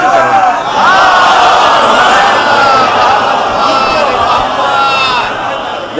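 A large crowd at a religious gathering in Lucknow shouts scattered, overlapping slogans. The voices are loud, sustained and ragged for the whole stretch and only thin out slightly at the end.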